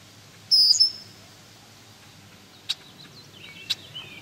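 A red-winged blackbird near its nest gives a sharp, high call followed by two brief chips spaced a second apart, loud and close outdoors against faint background hiss.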